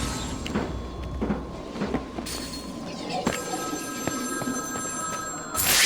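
A telephone rings repeatedly in Batman: Arkham City, Zsasz's call to Batman: a steady run of bright electronic bell rings over game ambience, with no talking.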